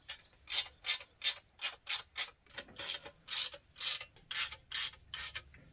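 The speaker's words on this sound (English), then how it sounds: "we'll just put this in the center here and tighten it down" Quick ratchet wrench strokes tightening clamp bolts on a Granberg MKIV chainsaw mill, about fifteen crisp rhythmic clicking bursts, close and clear with no voices.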